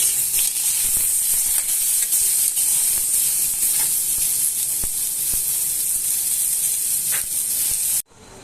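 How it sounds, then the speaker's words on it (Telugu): Dried red chillies, chopped onions and cumin sizzle in a little hot oil, a dense, loud, continuous frying hiss with faint crackles that cuts out abruptly near the end. "మళ్ళీ అదే నూనె కొద్దిగా నూనె పోసి ఎండుమిర్చి, కొంచెం ఉల్లిపాయలు, కొంచెం జీలకర్ర వేసి వేయించాలండి."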